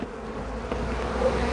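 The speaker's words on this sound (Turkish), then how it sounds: "Gördüğünüz üzere arı uyandı ve bir de kameraya saldırıyorlar şu anda." Honeybees roused from a hive during a warm-weather colony check, buzzing close and steadily as they swarm at the camera, a continuous droning hum with no talk.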